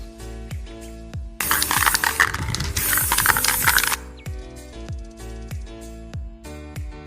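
Spray can painting sanded plastic shells light marine blue: a loud hiss bursts for about two and a half seconds over a background of repeated metallic ticking clicks that continue before and after.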